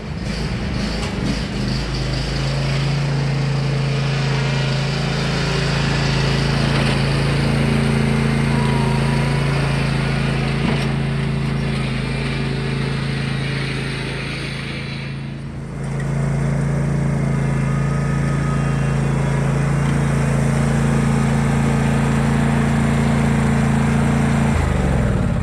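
A riding lawn mower fitted with a trailer hitch runs its engine steadily close by, a strong droning hum with a brief dip in the middle before it picks back up and carries on.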